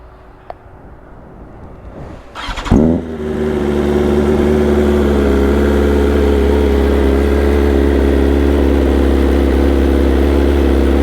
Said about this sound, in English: first cold start or second one with the S1000 on stock exhaust